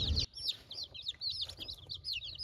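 Baby chicks shut in a box peep in rapid, overlapping high chirps, close and lively, with a brief low bump at the start and quiet background rumble between the calls.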